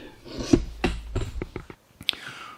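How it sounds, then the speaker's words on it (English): Hand scraper scraping a cast iron surface, a handful of short, rough rasping strokes close up, spaced irregularly with a brief pause near the end, no voices. "So just thought I'd get out the old scraper and show you what it looks like when you get through with it."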